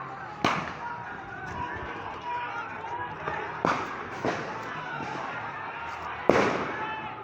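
Sharp bangs of police gunfire and tear gas shells ring out at intervals during an anti-quota protest in Kushtia, three or four loud cracks with a sustained noisy background of commotion between them.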